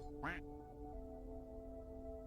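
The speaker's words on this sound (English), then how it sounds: "the quack always breaks me" A single short, bright duck quack from the video game Star Birds pops up near the start, then quiet steady game music tones carry on alone at low level.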